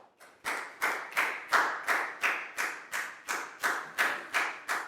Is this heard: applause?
yes